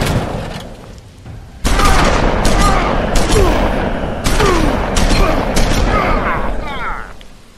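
Loud gunfire erupts in the video game The Wolf Among Us, with heavy booming shots and rattling bursts over a dramatic score, with voices speaking in between.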